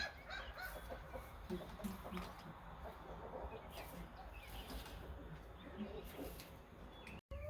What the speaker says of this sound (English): In this coop, I have 8 hens, and today I got 7 eggs.